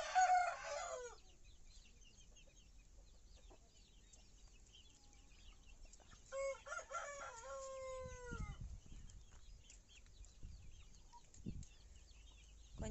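Hens cluck and chicks cheep in short, scattered bursts around a muddy village yard after rain, fairly close, with soft shuffling between the calls.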